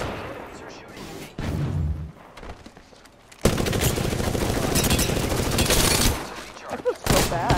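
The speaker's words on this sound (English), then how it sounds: "Enemies are shooting at me." Rapid bursts of enemy gunfire in Apex Legends crackle loudly in sustained volleys, with an intense stretch of continuous shooting in the middle and a sharp burst at the end, mixed with game sound effects.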